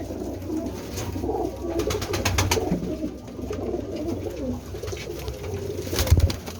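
Several breeds of pigeons coo and warble in a loft, with soft overlapping throaty calls up close, some rustling and a brief flutter near the end.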